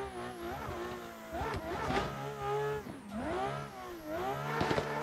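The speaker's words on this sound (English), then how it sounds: "Banging red line with this car." A simulated car engine in Assetto Corsa, driven on a Fanatec Club Sport v2.5 drift wheel, revs hard up to the red line in repeated rising and falling surges, loud and close, with no voices.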